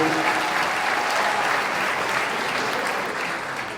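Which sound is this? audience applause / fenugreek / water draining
audience applause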